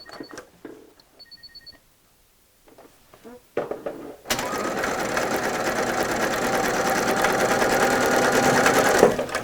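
A sewing machine stitches freezer-paper foundation piecing, starting abruptly after a few seconds of soft handling noises and then running as a loud, continuous, rapid mechanical chatter close by.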